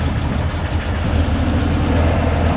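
An original 1934 Ford truck engine runs with a steady, loud, close low rumble throughout, no voices over it.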